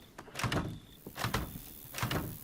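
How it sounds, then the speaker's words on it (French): A door being bashed in within the Resident Evil 7 demo video game: three heavy, booming thuds spaced about a second apart, loud and close with no talk. "ils vont s'amuser à défoncer la porte"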